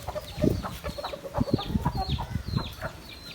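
Chickens cluck in short, irregular bursts at close range while being fed millet, with soft scratching and pecking between calls and no talk.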